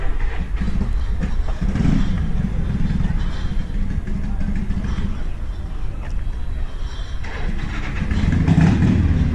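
A supercharged bagger motorcycle with a blower runs close and loud, giving a continuous heavy engine rumble that swells slightly toward the end.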